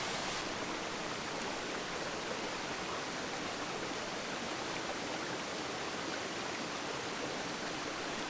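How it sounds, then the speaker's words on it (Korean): Miin Falls in Tongni Gorge pours from a 50 m cliff, a dense, unbroken roar of falling water heard close and loud, steady throughout without any voices. "높이 50m 절벽에서 힘찬 폭포수가 쏟아져 내립니다."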